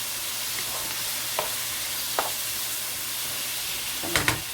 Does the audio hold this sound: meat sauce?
yes